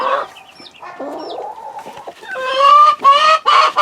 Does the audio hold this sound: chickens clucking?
yes